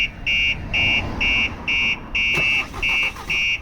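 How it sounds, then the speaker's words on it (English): A Starline S9 car alarm installed on a VW Transporter sounds loud and close, a pulsing electronic tone repeating about twice per second, with a brief click partway through. "Alarm is now triggering."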